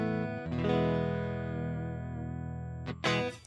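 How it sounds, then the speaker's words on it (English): An electric guitar run through an HX Stomp straight into a computer with no amp or cab, a single chord ringing thin and clean with long sustain, followed by a couple of quick scratchy pick strokes. "direct dry signal into the computer sounds like this."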